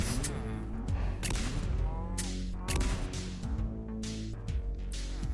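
Weapon fire from the trumpet gun in the Minecraft Dalek mod: repeated loud blasts in quick bursts, each with a falling, tonal brassy tail, over a dense layered background.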